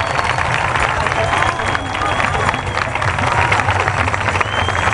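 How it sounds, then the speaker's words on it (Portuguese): Audience applause at a Catholic pilgrimage gathering, loud continuous clapping from a large crowd mixed with murmuring voices and general hubbub throughout. "Um aplauso, podem vir subir aqui."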